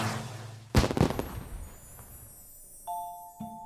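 Tudor-style firework stars exploding in a recreation of the Kenilworth display for a Tudor queen: a cluster of sharp, loud bangs and crackles early on, fading to a softer fizz with faint ringing tones near the end.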